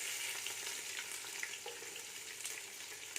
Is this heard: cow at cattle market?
no